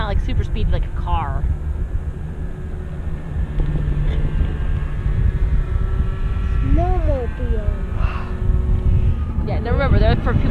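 Loud, steady engine rumble of a snowmobile running nearby, with wind buffeting and people talking over it intermittently.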